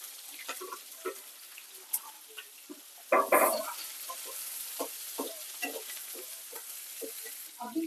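Onions hit oil in a pan with peanuts, green chillies and curry leaves for poha, giving a quiet fry with scattered spoon scrapes and taps and one brief louder burst of sizzle midway.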